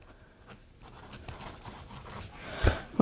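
Close scratching of a pencil writing on a paper envelope, soft irregular strokes that grow louder toward the end, with no voices.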